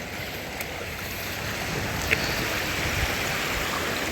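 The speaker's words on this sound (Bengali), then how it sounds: "সাগরের যে ঢেউ ঢেউয়ের শব্দ শোনানোর জন্যই একটু ভিতরে আসলাম" A continuous roar of sea waves off Bangladesh's coast near Kuakata, heard from a trawler, broad and steady, with rushing surf and wind filling the background; no voices.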